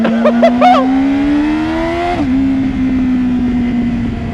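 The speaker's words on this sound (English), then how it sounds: "He asked me to rev it, I revved it." A loud, close Yamaha R6 sport motorcycle engine revs up, climbing steadily in pitch, then drops back to a throaty, sustained idle.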